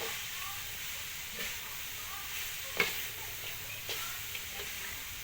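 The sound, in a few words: stir-frying galangal, garlic and shallots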